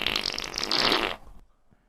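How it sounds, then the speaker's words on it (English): A loud, raspy fart sound effect plays alone for about a second, then drops off abruptly into near silence. "You didn't put together that was a fart?"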